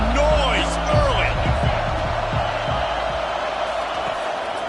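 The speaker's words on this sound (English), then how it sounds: "This crowd bringing the energy and noise early." A packed stadium crowd at a Minnesota Gophers versus Nebraska college football game keeps up a loud, continuous roar with scattered whoops and shouts, while a commentator talks over it.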